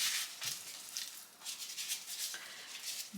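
Hands massaging a raw chicken breast with salt and white pepper, soft close rubbing and squishing strokes in a quiet kitchen, repeated in short irregular bursts.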